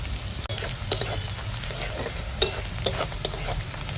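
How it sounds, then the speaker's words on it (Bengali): Onions fry in mustard oil in a wok before fish goes in, a steady close sizzle with scraping stirs and a few sharper clanks of the spatula, no talking. "সরিষার তেল এখন দিয়ে দেবো পেঁয়াজ পেঁয়াজটা আগে ভাজবো"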